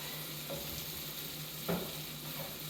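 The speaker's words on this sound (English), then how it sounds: "Crank this thing up to high heat to get a little bit of browning on the radishes." Radishes frying over high heat in a pan, a soft steady sizzle with a low hum and a brief louder stir or scrape near the middle.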